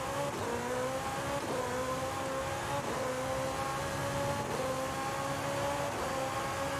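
Porsche 918 Spyder in Forza Horizon 5 accelerating hard, a loud continuous engine note rising in pitch through repeated gear shifts, about five upshifts in under seven seconds with no talking.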